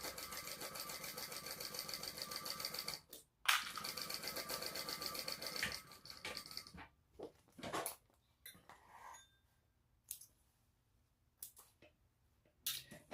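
Sewing machine stitching a seam on a sling pack bag, running in two long continuous bursts of rapid stitching, then shorter stop-start runs and small clicks as the work is adjusted, close and clear with no talking.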